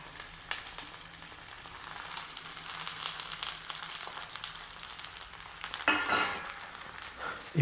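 Gongura leaves frying in hot oil, a steady broadband crackle and sizzle throughout with a louder hiss burst as more leaves hit the pan near the end.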